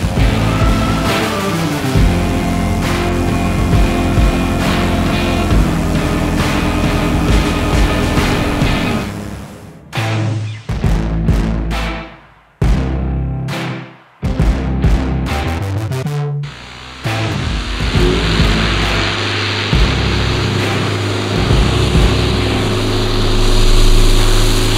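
An Avid Flyer light sport aircraft's engine and propeller roar steadily at takeoff, then the sound breaks up in choppy gusts and dropouts partway through before a loud, even drone returns.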